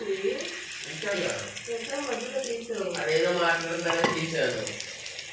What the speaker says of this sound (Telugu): ఇప్పుడైతే ఈ తాలింపు కాలింది ఇందులో వేసేస్తున్నాం